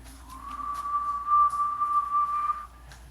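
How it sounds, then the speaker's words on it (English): A water pipe in a Holiday Inn Express hotel room in Garden Grove gives off a single sustained high whistle, steady and clear for a couple of seconds before fading out. "that whistling pipe kept me up all night"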